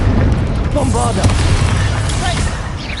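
A spell bursts in the Hogwarts Legacy video game with a heavy, rumbling boom among dense battle effects, and a voice shouts over the blast.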